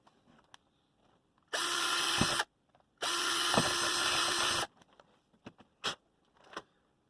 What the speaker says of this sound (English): I guess we get the drill out again.